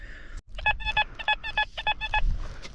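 A metal detector emits a series of rapid, repeated electronic tones in quick bursts, loud and close, with brief gaps between them.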